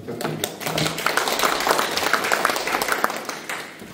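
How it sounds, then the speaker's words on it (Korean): Applause from the audience at the third Daejeon printing culture development forum, a steady wash of clapping from a seated crowd, fairly loud and continuous throughout with a faint voice or two underneath. "작년부터 저희에서 많은 도움을 주고 계신 장철호 단장님께 다시 한번 박수 부탁드립니다."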